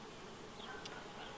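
Honey bees buzz faintly around a hive in May beside farm fields sprayed with pesticides, a soft, steady drone with no voices.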